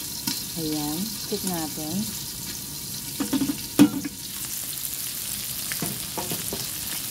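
Pork sautéing in a pan for pancit canton and sotanghon guisado, a continuous soft sizzle with occasional stirring clatter, while a person talks intermittently over it.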